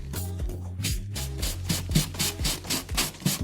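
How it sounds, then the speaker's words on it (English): Gentle, rhythmic rubbing of a sponge sanding a painted furniture surface repeats in quick, even back-and-forth strokes at close range with no talking. "I gently sand it down."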